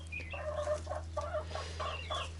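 Several hens cluck in short repeated bursts close by, including three plump laying hens in a backyard flock, over a steady low hum.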